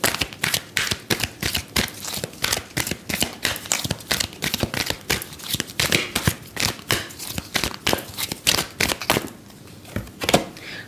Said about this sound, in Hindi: अच्छे से शफल करूंगी, then I will pick the card for you Leo sign.